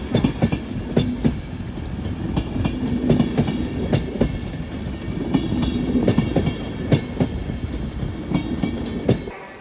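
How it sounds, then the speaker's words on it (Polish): A Vectron locomotive pulls the Intercity Batory passenger train into Katowici station with a rumbling roll and sharp rhythmic wheel clacks over rail joints that come and go as the carriages pass nearby. "I mamy wjazd y, Białego Wektora z pociągiem Intercity Batory."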